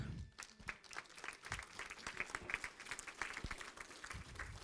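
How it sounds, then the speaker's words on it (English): Audience applause at a talk about the Battle of Chalk Bluff, welcoming the speaker Paul Arnold; scattered, moderately distant clapping runs steadily for several seconds with faint crowd murmur. "if you'll give us a round of applause for Paul Arnold"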